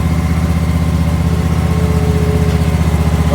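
A riding lawn mower's engine runs right after a cold start, a loud, close, steady rumbling idle with a fast regular pulse and no voices.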